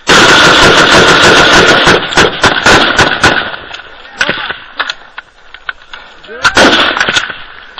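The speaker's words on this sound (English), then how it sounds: "Covering fire!" Gunfire during an ambush in Afghanistan: loud, rapid bursts of shots crowd the first few seconds, then thin out into scattered, sharper cracks at varying distance, with shouting voices in between.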